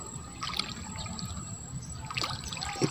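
Water of a small river trickles and gurgles steadily close by, with small splashing bursts scattered throughout and no voices.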